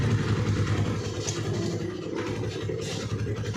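A motorcycle engine fitted with a stock CDI ignition unit runs steadily close by, giving a continuous, even engine drone with no speech.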